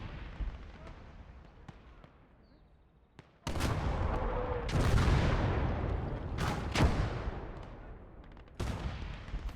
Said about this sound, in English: Oh, that's an anti-tank gun.